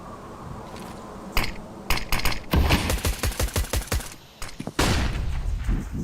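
Rapid bursts of gunfire from Counter-Strike: Global Offensive, with single shots and quick volleys in uneven rhythm, loud and close, some mechanical clicks between them and no talking.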